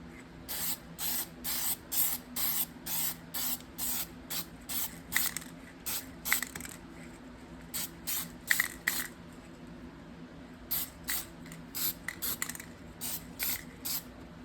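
Spray paint goes onto an RC car body as a light first coat in short, rhythmic hissing bursts with brief pauses between, close and clear, with no talking.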